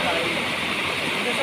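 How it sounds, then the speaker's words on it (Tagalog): A small natural waterfall on a farm pours in a steady, broad, close rush of water without pause, with a person talking over it. "Ito yung mini falls."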